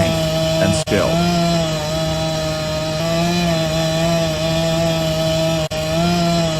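A chainsaw roars steadily at full throttle while lumberjacks fell a huge tree, loud and close, with a sustained engine whine and two brief dips in revs.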